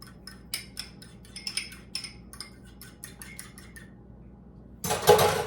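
A fork or whisk beats egg wash with a splash of water in a bowl, giving quick uneven metallic taps and clinks, close and quiet, ending in a brief louder scrape.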